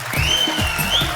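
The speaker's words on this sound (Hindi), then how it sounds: "जोरदार तालियां शाहरुख भाई और आलिया के लिए" Studio audience at a comedy talk show bursts into steady, dense applause for guests Shah Rukh Khan and Alia, a brief burst of massed clapping with a faint whistle-like tone running above it.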